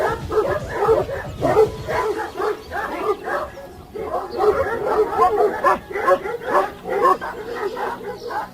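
A Kangal dog barks repeatedly and close by, loud regular barks coming in quick rhythmic bursts with brief pauses between them.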